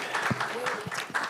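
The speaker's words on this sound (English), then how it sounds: "Round of applause to welcome him on stage, tafadhali." Audience at an EcoDrive cover launch event clapping to welcome a guest onto the stage, a short burst of applause with talk and murmuring mixed in.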